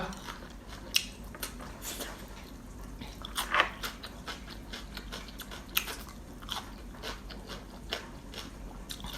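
Someone eats khanom jeen rice noodles in nam ya pa curry with pickled spider plant and pickled guava, with close, loud bites, crunches and wet chewing at an uneven pace and no talking.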